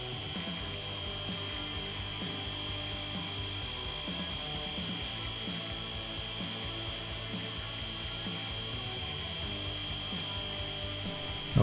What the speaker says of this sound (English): Let's see if I can do it without breaking the drill.